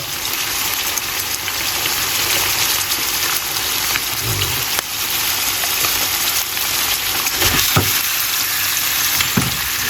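A salmon fillet pan-frying in oil, with a loud, continuous crackling sizzle and a few sharper pops and spits near the end.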